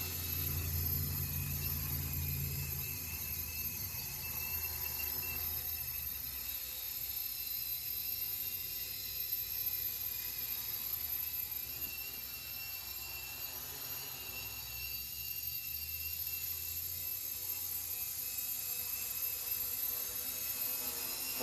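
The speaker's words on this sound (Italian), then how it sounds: "il drone è molto silenzioso" A GPS drone hovers low overhead, giving a steady, faint high-pitched whine and buzz with a soft rumble underneath and no pauses.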